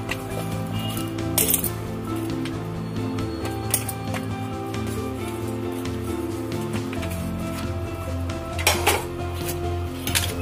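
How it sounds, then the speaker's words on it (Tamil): Onions go into a pot for mutton head gravy in a kitchen, with steady clinks and clatters of metal utensils against the pot and scattered sharper knocks, close and continuous. "வெங்காயம் போடுங்க."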